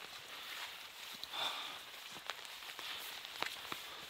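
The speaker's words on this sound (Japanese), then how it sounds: "あ、雨強くなってきた。" Rain falls outdoors at night in a park on a mountain, a soft hiss with scattered drops and taps that swells slightly, quiet and distant, with no talk.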